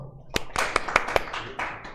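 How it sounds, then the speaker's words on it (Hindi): Students in a CA Inter income tax class give a brief, scattered burst of clapping, a handful of sharp claps spread over about a second, with a voice heard around it. "बजाओ ताली बजाओ।"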